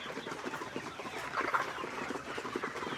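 Farm chickens in Cebu clucking while they feed, with soft, repeated close clucks and scratching in a fairly quiet outdoor setting.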